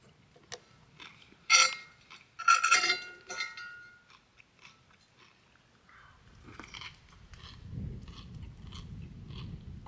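Crunchy biting and chewing of a coffee-crusted one-pound T-bone steak with a pan of potatoes, grilled while truck camping, comes in a few close bursts early on, then softer chewing over low background rumble.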